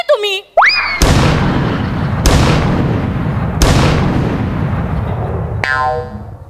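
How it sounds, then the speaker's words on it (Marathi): A three-cannon salute sound effect in a Marathi comedy sketch at a wedding: three loud, sharp booms with decaying rumbles, spaced about a second apart, framed by cartoonish boing and whistle effects at the start and end. "या पंचला त्याने 3 तोफांची सलामी दिली बघ."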